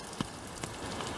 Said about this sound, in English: a lot of water coming down from the top